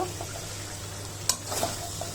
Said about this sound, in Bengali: এখন রাইসগুলো দিয়ে নাড়িয়ে চেড়ে নিব,